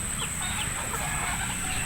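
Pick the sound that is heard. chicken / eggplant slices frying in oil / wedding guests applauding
chicken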